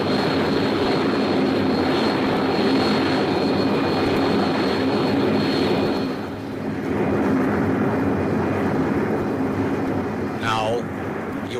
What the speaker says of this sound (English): You hear the roar after the bombers have passed over your head.